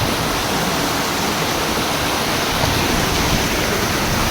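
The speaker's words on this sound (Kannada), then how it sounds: "ಎರಡು ಕಡೆಯಿಂದ ನೀರು ಬರ್ತಾ ಉಂಟು ನೋಡಿ." Clear spring water pours in from two sides during the rainy season, a loud, unbroken rushing wash heard close up, steady throughout with no voices.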